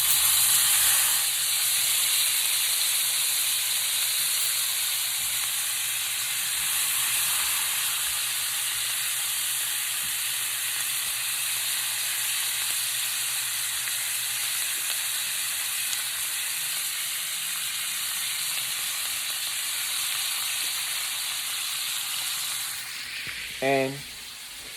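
Asparagus sizzles in melted margarine with garlic in a frying pan, giving a steady, close hiss that carries on without break, ending with a short bright clatter.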